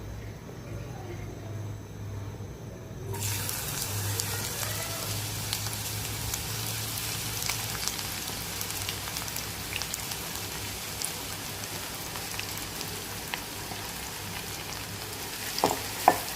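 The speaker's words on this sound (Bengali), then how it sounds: "পেঁয়াজটা সুন্দর করে ভেজে নেব।" Onions sizzling in hot mustard oil in a wok, a steady dense crackling hiss that starts abruptly and continues evenly throughout, close and moderately loud with no talk.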